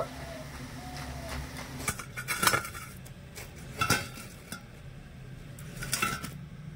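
Semolina fritters for rasbora are lifted from hot oil with a metal utensil, giving several sharp clinks and scrapes against the pan over a soft sizzle.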